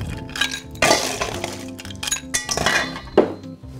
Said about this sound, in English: grab some ice and fill up our glass portion of our shaker tin here